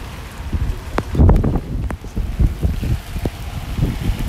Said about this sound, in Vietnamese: thời tiết bây giờ là mưa rất là lớn